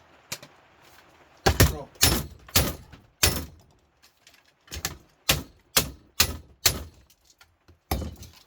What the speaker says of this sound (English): So I'm just ripping the guts out of it.